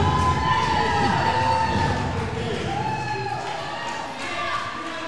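A wrestling crowd at an AACW show cheers and shouts loudly and continuously, with scattered thuds from the ring and voices talking over the roar.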